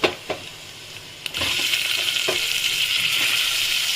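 A few light clinks at first, then a loud, steady sizzle of chicken frying in hot oil with half-fried garlic, continuing to the end.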